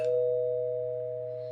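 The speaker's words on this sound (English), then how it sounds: "it wasn't long before the doorbell rang." A doorbell chimes in the video game Angels with Scaly Wings: a single clear, loud, sustained electronic tone that rings out and slowly fades.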